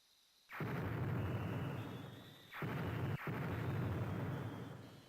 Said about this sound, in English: What do you mean the trees are exploding?